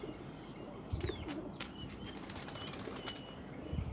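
Pigeons of a fancy breed flapping their wings at a bird keeper's loft, a few quick wing-beat bursts over faint background, with soft bird calls scattered in the quiet setting.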